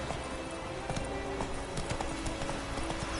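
Hoofbeats of Roach, a horse ridden in The Witcher 3, clip-clop in a steady galloping rhythm along a road, close and continuous over a background of ambient game sound.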